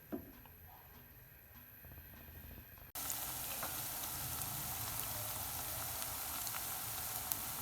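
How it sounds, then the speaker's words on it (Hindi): Onions go into hot cooking oil for namkeen chicken. After a quiet opening the sizzle jumps in abruptly and holds as a loud, dense, crackling hiss that keeps going steadily to the end, with no talking. "कुकिंग ऑयल को गर्म करने के बाद हम इसमें प्याज डालेंगे।"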